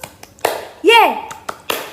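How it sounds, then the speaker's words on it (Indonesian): A children's 'tepuk Yesus' clapping chant during a kindergarten Sunday school worship service. A few sharp, separate claps close by are set against a lively chanted voice, and the beats come in an uneven rhythm. "sekarang kita tepuk Yesus ya, biar adik-adik di rumah lebih semangat."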